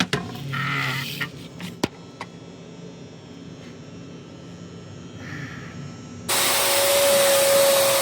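Vacuum sucking muck out of the trough of a pizza oven during maintenance, with quiet knocks and handling noise before a loud, steady rushing suction starts near the end.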